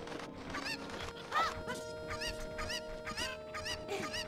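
Chicken clucking in the video game The Legend of Zelda: Ocarina of Time, a run of repeated squawking, honking calls over steady game music and ambience, quiet and continuous.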